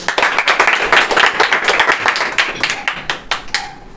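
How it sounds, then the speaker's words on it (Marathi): An audience at a competitive-exam quiz event claps vigorously together, steady dense applause with sharp hand claps throughout, close and loud, fading slightly toward the end. "त्यांच्यासाठी एकदा जोरदार टाळ्या होऊ द्या"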